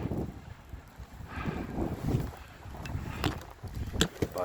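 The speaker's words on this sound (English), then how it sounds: "very windy here, snowing really good." Strong wind in snowy, icy winter weather buffets the microphone in rough, uneven gusts, with a few sharp crackles and knocks scattered through.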